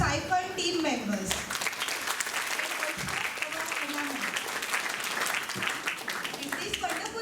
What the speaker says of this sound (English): I request everyone to clap again very loudly to all the Siphon team members.